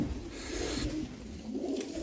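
Soft, low pigeon cooing murmurs continuously through a moderately noisy outdoor background, with no clear breaks.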